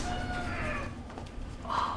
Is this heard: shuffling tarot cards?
no